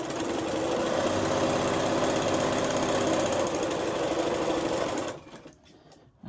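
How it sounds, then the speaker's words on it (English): A sewing machine runs a zigzag stitch along the top edge of a fabric piece for a pencil holder, with a fast, even mechanical whir that stops abruptly near the end. "You are going to zigzag that top edge just on this one piece."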